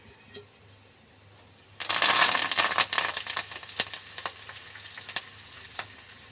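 After a quiet moment, tempering spices drop into hot oil with a sudden loud sizzle, then crackle and pop irregularly as the hiss gradually dies down.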